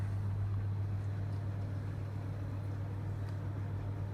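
A Yamaha XVS 1100 motorcycle engine runs with the choke on, a steady low droning hum that holds constant throughout, loud and close with no talking.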